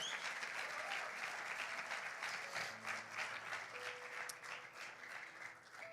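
Sustained applause from a large church congregation, dense steady clapping that continues throughout, slightly distant and reverberant.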